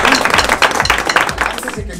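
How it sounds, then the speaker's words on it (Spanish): Theatre audience applauding at the opening of a stage show, a dense, steady wash of clapping that fills the whole moment at close range, loud and unbroken. "Un aplauso muy fuerte,"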